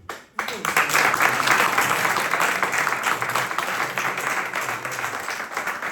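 Clergy and attendees at a formation gathering break into applause for a speaker, a thick burst of clapping that jumps in sharply and holds strong before easing slightly, with faint voices mixed into the crowd noise.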